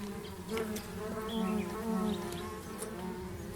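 Bees buzzing among flowers while gathering pollen, a steady close drone of wings that swells and fades slightly, with no voices.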